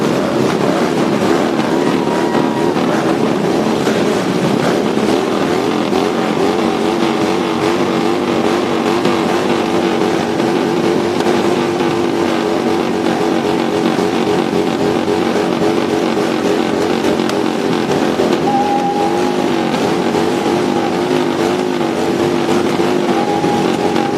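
Motorcycles of the Saints and Sinners Polish Motorcycle Club riding past in the Pulaski Parade, a steady loud engine rumble sustained throughout with crowd and street noise mixed in.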